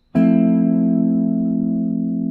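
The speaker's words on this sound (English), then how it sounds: "This chord is one of my favorite sounds for a major 7 chord that would normally sound like this." A single major seventh guitar chord struck once and left to ring, sustaining smoothly and slowly fading, with no other sounds.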